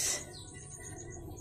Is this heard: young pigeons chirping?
yes